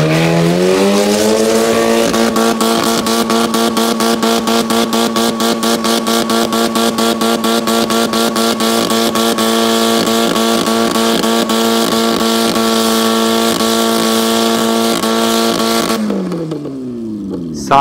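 A wrecked demolition derby car's engine revs hard and steadily for about sixteen seconds, loud and close, its pitch climbing at the start and dropping away as it cuts out at an autocross and demolition derby event.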